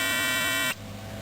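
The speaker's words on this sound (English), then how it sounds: "right on cue, a little beeper that beeps every 15 seconds" A battery-powered mole repeller that cost about 25 bucks and runs on four batteries gives off a loud, steady electronic beep that cuts off abruptly after most of a second, leaving quiet background hum.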